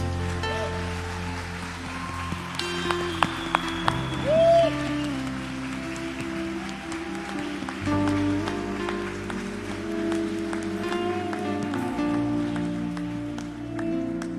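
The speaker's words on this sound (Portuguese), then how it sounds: "dê uma salva de palmas a Jesus" A church congregation claps as people come forward for prayer, a continuous bed of applause mixed with sustained keyboard chords from the worship music.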